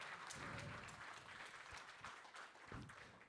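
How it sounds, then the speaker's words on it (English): A round of applause from an audience at a trading-themed event, dense continuous clapping at steady loudness throughout, with a faint voice briefly audible beneath it. "Give Randy a round of applause"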